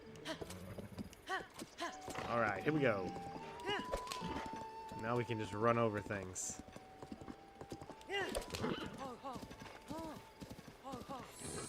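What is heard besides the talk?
horse galloping in video game Zelda: Breath of the Wild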